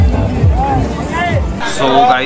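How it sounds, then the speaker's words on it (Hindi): Busy crowd on Mall Road in Manali, a close murmur of many voices and street bustle, with someone talking over it. "मॉल रोड का सीन कुछ ऐसा है, बहुत ज़्यादा ओवर क्राउड हो रखा है"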